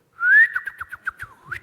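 A person whistles an imitation of oriole song: one rising sustained note followed by a quick series of short, bright chirped notes, loud and close with no other sound.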